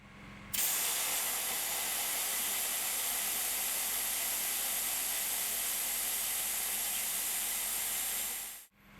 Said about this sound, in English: So I've got this tire deflator hooked up to the valve. Let's undo it.